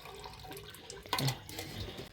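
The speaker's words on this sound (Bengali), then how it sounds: "এই গরম জল দিয়ে ধুয়ে নেবো" Hot water poured over cut raw jackfruit to wash it, a short close splash and running-water rush swelling in the middle of the clip, with no talking.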